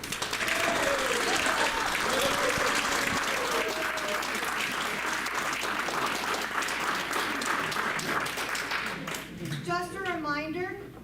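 Audience applause at a school board of education meet and greet, a sustained crowd of clapping hands in a hall that runs for several seconds, with voices and chatter mixed in and fading toward the end.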